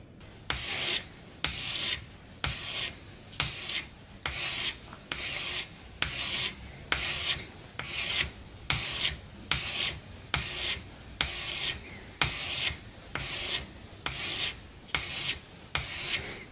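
A belt sander puts a satin finish on a hollow-ground titanium fixed blade, 25mm thick, with about fifteen evenly spaced rasping passes of bright abrasive hiss, each roughly a second long with brief gaps between them, steady and close.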